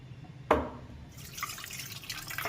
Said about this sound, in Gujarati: આ પાણી કાઢી નાખીએ છીએ.